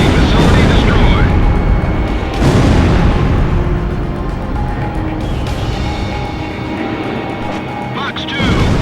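An enemy facility blows up in the Ace Combat Zero flight game, a loud, continuous roar of explosions and jet noise with fresh blasts surging in, while a voice speaks over the din.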